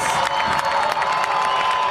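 A high school football stadium crowd at a Herriman vs. Lehi game roars and cheers loudly and continuously, a dense wall of voices at a tense fourth-down moment.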